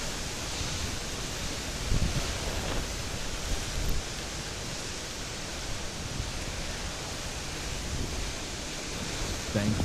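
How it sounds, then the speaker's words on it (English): Hurricane Milton's wind gusts near Homosassa roar as a loud, dense, continuous wash of noise with slight surges in strength. It buffets the microphone throughout and no voices are heard. "Winds picking up at 7 p.m. 60 mile per hour wind gusts, says Crystal in Homosassa."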